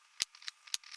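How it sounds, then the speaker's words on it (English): Knife slicing radishes into thin slices for a steak salad, two crisp light cuts with faint clicks between, quiet and close. "Cut these radishes into thin slices."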